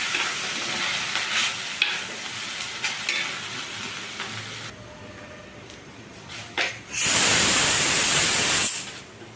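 Chopped fenugreek leaves fry in a hot tempering of moong dal, urad dal, dried red chillies and cumin, crackling and hissing steadily, with stirring scrapes and a loud burst of sizzle near the end.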